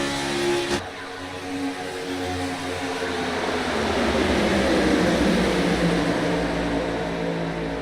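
A race car at Talladega bottoms out through turn 4 during a NORA Cup Series event, a loud sustained engine roar that swells and holds with broadband scraping noise and tonal harmonics over several seconds.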